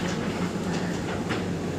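Train standing at platform 1 of a coach maintenance yard at Hazur Sahib Nanded railway station, giving a steady close rumble with faint metallic clatter and hiss, no voices.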